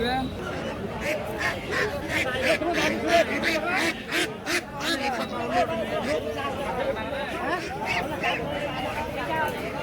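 A Chinese duck quacking repeatedly at the Nasibganj village market in Pirganj, Thakurgaon, its calls mixed into busy crowd chatter and nearby voices.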